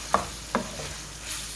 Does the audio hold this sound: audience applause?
no